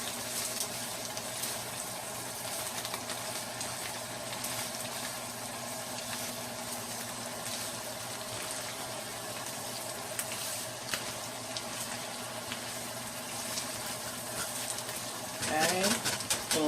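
Bacon and steak sizzling and frying in a pan while being stirred, a steady dense crackle throughout with a burst of louder stirring clatter near the end.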